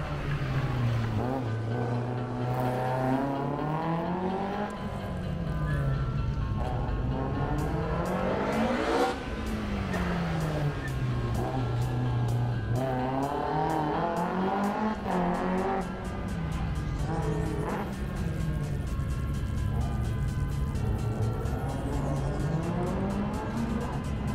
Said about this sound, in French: Voici la H2 en piste, la BMW M3 E30 de Marc Valiccioni et Johan Raffaeli.